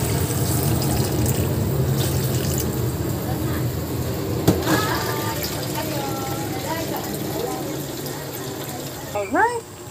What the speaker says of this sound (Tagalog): Alright, next natin gagawin ay maglalagay tayo ng tubig.